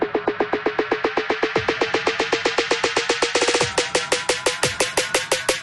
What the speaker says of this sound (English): Basically, all you need to do is just repeat snare drums,